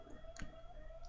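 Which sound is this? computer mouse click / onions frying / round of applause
computer mouse click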